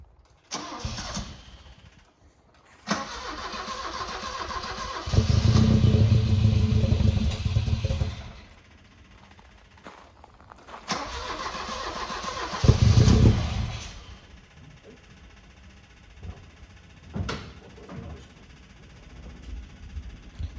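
An Alfa Romeo is cranked several times, with bursts of starter churn and an engine catching into rough, rising revs that fall back to a lumpy idle, then further blips and clanks, heard nearby.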